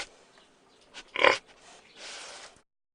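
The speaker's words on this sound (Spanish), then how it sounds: "Puerco." A pig gives a short, fairly loud grunt near the middle, then a softer, breathier snort follows before the sound fades to quiet.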